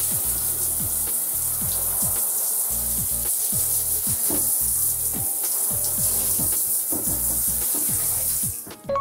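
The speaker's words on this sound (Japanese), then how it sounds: "シャワーを一回ザーッと流しただけではこんな感じで泡が排水口の周りに溜まって流れていかないですよね" A shower sprays water steadily across a bathtub to rinse off soap foam, a continuous close hiss of running water with scattered knocks and splashes, cutting off briefly at the end.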